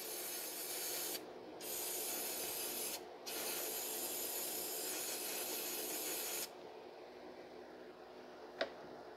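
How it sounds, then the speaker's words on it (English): An aerosol can of throttle body cleaner sprays in long hissing bursts with a couple of brief pauses, close by, on a 2006 Mazda 3 2.3, then the hiss fades out and a small click follows. "if you do spray a lot of the cleaner, it's going to flood the engine"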